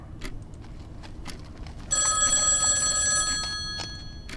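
An old-fashioned telephone bell rings in the 1937-set mystery game Dear Devere, a bright metallic trill that starts abruptly partway through and rings steadily for about two seconds over faint background ambience.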